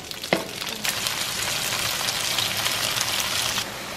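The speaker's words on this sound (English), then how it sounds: "Make sure you spin your oil around and continue searing the meat until it's gonna be brown" Beef strips sear in hot oil in a wok for beef chow fun, a continuous close sizzle and crackle with a sharp pop near the start, no talking.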